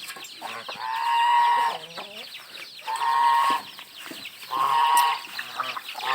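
Poultry call out in three loud, drawn-out bursts of squawking and clucking, separated by brief quieter gaps, close by and without talking.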